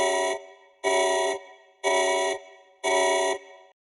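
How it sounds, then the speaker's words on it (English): An alarm blares through a hideout in an audio drama: four loud, harsh, horn-like pulses of equal length, evenly spaced with short gaps between them. "An alarm blares through the hideout, the monitor lights shifting to red."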